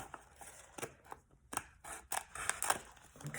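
Scissors snip out paper shapes for French country Christmas ornaments, a quick irregular series of soft, close cuts and paper rustles.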